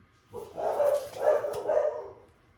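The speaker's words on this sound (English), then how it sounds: "There's my dogs." A few dogs barking at home, three clear bursts in quick succession at moderate distance, standing alone with no talk over them.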